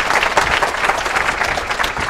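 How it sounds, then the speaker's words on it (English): At a conference locksmithing talk, an audience breaks into loud, continuous applause, thick and even with crowd noise mixed in, sustained from start to finish. "Round of applause, please."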